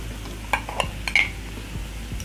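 A utensil scrapes and clinks a few times in a cooking pan as paprika, oregano and basil are stirred into tomatoes, close and clear over a faint background hiss with no talking.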